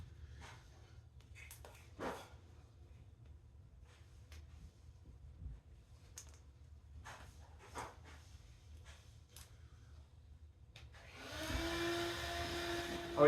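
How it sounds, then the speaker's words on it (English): A household vacuum cleaner starts up during house cleaning. After a quiet room with scattered soft knocks and thumps, a loud, steady droning roar fills the last two seconds. "Oh yeah, and there's a vacuum."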